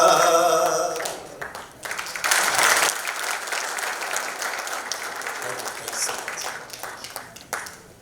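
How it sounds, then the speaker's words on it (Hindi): Loud audience applause fills a hall at a national pride awards ceremony, starting at full strength with a musical tone underneath, then settling into steady, dense clapping that carries on throughout without fading. "एक बार जोरदार तालियां हो जाए फिर से"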